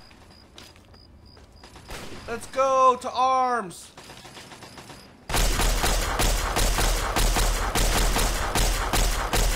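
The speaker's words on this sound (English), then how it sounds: "Oh god, I hear gunshots." Loud, dense gunfire from the video game Fallout 3 erupts midway and pours on continuously as rapid overlapping bursts, after a shouted voice and a quieter stretch of talk.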